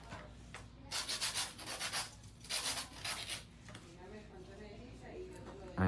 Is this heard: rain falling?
no